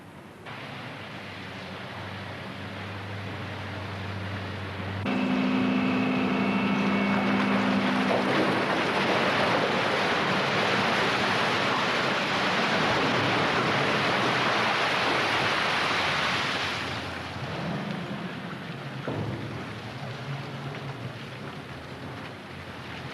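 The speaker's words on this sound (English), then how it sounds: "A gigantic steel pestle crushes the rock against the steel side of the crusher." A giant steel pestle rock crusher grinds limestone against its steel side, a loud, dense roaring rumble with grinding clatter that swells in abruptly, holds steady for about twelve seconds, then drops back to a lower mechanical drone.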